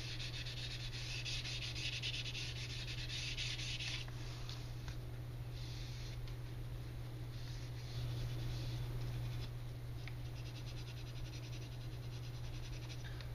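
Wet sanding of Squadron putty gives steady, close, gritty rubbing strokes that continue evenly throughout, with no voice over them.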